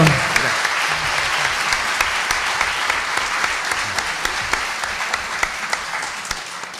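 An audience at a national public budget seminar applauds after a speaker finishes, steady dense clapping filling the hall throughout with a few sharper claps standing out.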